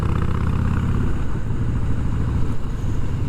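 A Harley-Davidson Fat Boy motorcycle rumbles steadily while riding along at easy speed, its low V-twin engine note loud and continuous with wind noise throughout, no talking.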